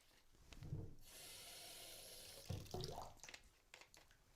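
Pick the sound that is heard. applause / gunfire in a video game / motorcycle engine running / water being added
water being added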